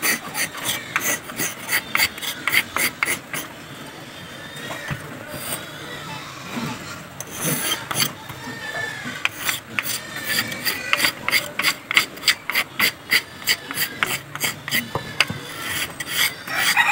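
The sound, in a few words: rubbing and smoothing wood for a hat stand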